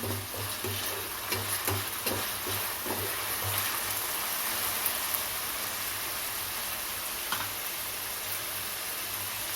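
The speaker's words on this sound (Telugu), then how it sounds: "కొద్దిగా వేగిన తర్వాత తీసేస్తున్నాను." Food fries in a pan with a steady, moderate sizzle, with faint stirring taps early on and no voices, while tomato rice is being made.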